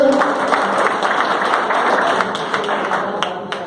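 Dense, sustained applause from an audience at an RCM meeting in Dausa, with many hands clapping together in a steady roar that fills the whole stretch and tapers slightly at the end.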